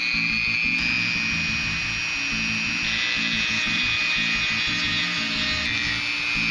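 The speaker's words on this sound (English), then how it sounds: "I'm using a carbide end mill with the radius on the top. It's much better at cutting through the steel." A carbide end mill with a radiused tip cuts into a steel die for a forged D20 icosahedron, giving a steady, loud, continuous grinding whine with a high tonal ring throughout, no voices.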